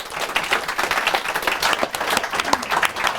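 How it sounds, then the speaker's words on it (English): Audience applause at a digital society school showcase, a steady dense wash of clapping from a crowd, fairly close and even throughout with no talk over it. "So first of all, a big round of applause for Frank Resin."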